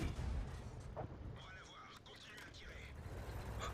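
A World of Tanks tank gun fires a snapshot as a heavy low boom at the start, followed by rumbling battle noise, with a voice talking over it.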